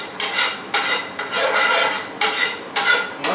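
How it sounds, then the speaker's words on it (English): Two eggs being stirred and scraped in a pan for pad Thai, a repeated rasping scrape of utensil on metal in bursts of roughly half a second to a second, close and fairly loud with no talk. "Just go ahead and make a scrambled egg"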